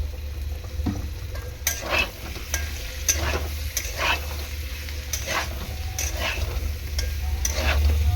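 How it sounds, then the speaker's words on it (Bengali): Chickpeas, soybeans and vegetables cooked in a little oil without turmeric fry with a constant sizzle while a spoon knocks and scrapes the pan in a regular stirring rhythm, close and clear, no talking. "ভালো করে এরকম কষিয়ে নেব"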